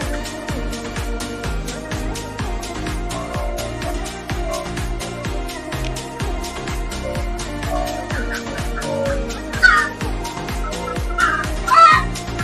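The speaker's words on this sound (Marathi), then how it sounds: "हे बघा पक्षी सगळे बाहेर आले आपले." Free-range country chickens on a poultry farm, their clucking and calls overlapping continuously outdoors, with a couple of louder, sharper calls standing out near the end.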